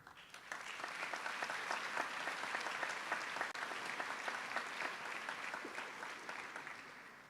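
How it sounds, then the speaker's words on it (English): Sustained audience applause at a high school graduation ceremony, steady dense clapping from a large crowd holding at an even level for several seconds without talk. "Give yourself a round of applause."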